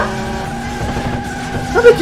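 Tires skid in the driving video game Taxi 3, a short whining squeal over a steady engine drone that swells sharply near the end, loud and close.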